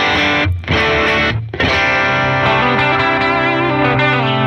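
Heavily distorted electric guitar chords played through an amp modeler ring out loud and sustained, with a couple of brief cuts near the start before a thick, saturated wall of tone holds.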